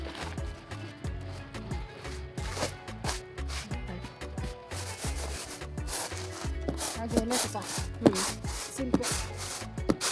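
Over-fried, crumbly lentils are tossed on a winnowing tray to shake the husks loose, making close, rhythmic rubbing and tapping that repeats steadily throughout.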